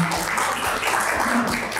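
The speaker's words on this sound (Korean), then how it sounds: "여러분 박수 한번 다시 부탁드립니다" An audience at a Porsche Taycan talk show applauds the guests: brief, even clapping from a seated crowd, moderately loud, with a faint voice murmuring underneath.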